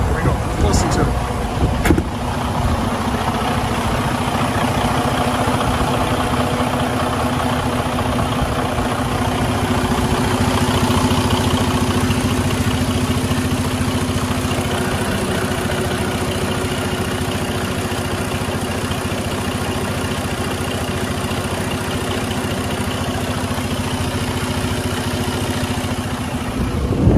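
A 2016 Freightliner Coronado 122 SD truck engine idles steadily with a low, even rumble that stays constant throughout, close by and without notable revving.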